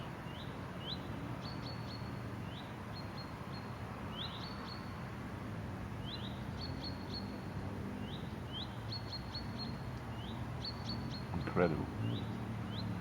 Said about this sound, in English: Birds in rain